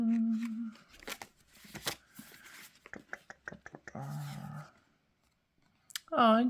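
Advice cards for a pick-a-card reading are shuffled and drawn by hand, giving a series of quick, close papery slaps and flicks, with someone speaking briefly at the start and end.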